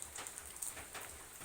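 Rain falls steadily and softly, patter running throughout the short stretch with a few slightly louder drops, and no voices.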